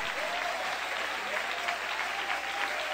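A Portuguese-speaking evangelical congregation claps during a revival night church service. The clapping is dense and continuous, with voices calling out and a sustained tone underneath.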